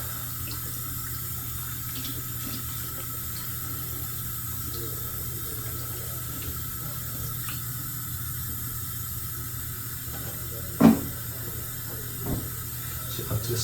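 Tap water runs steadily into a sink in a high-rise apartment while a shaving brush is rinsed, a continuous hiss with a couple of brief splashes near the end, no talking.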